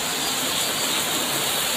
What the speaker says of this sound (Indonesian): Anaknya main hujan-hujanan.